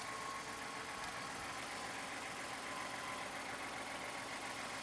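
An engine runs steadily in a Ford F-150 with about 117,000 miles, a continuous faint idling hum with a light knocking texture and no talk.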